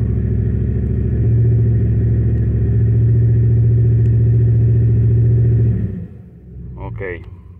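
Hemi 5.7 V8 misfiring on several cylinders, with a loud, steady, uneven rumble that holds for about six seconds and then drops off abruptly to quieter idle.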